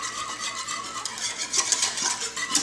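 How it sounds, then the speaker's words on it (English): A whisk works flour into a white bechamel sauce in a pan, making steady, rhythmic hissy scraping and swishing strokes close by. "I'm going to switch to my whisk here so we can make sure we get all those small bits of flour whisking good"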